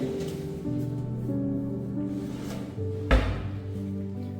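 A kitchen trolley drawer bumps shut once with a short wooden knock, heard over steady background music.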